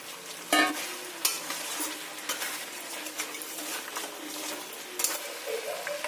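Chicken curry with fried potatoes is stir-fried in a pan, a steady close sizzle broken by repeated stirring scrapes and a few sharper clanks of the utensil against the pan, with no talking.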